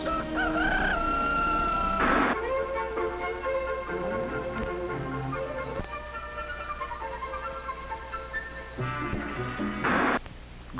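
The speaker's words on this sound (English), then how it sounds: "A rooster crows." A rooster crows at dawn, a long loud cock-a-doodle-doo rising and falling, set against background music with a couple of sharp bursts at the start and end.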